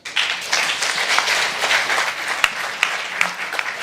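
A crowd applauding steadily after a speech on climate adaptation in Nairobi, a dense wash of clapping with a few sharper individual claps standing out near the end.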